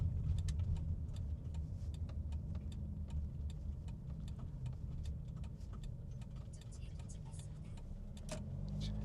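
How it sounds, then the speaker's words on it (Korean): Left turn signal of a Kia Carnival ticking in a steady, regular rhythm over the low hum of the engine and road noise inside the vehicle. "좌측 깜빡이 키고 여기서 하역장으로 들어갈 거예요"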